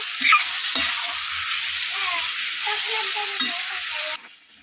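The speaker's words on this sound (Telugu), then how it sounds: "ఇప్పుడైతే టమాటాలన్నీ ఇలా వేసేసి కలిపేసాను" Tomato pieces stirred into a frying pan for egg curry, a strong steady sizzle with spatula scrapes near the start and a clack before it cuts off abruptly near the end, close up, no speech.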